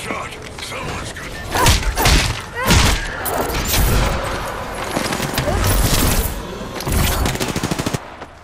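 A squad attack in a shooter video game: repeated bursts of automatic gunfire and heavy impacts, some loud and near, others scattered, running throughout with a voice talking over it.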